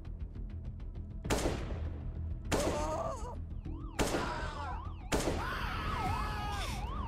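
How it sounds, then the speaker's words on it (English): Cartoon gunfire in a SpongeBob-based animation, four loud sharp bangs spaced about a second apart, each ringing out with a wailing siren-like tone behind it. "I guess we have to resort to the gun"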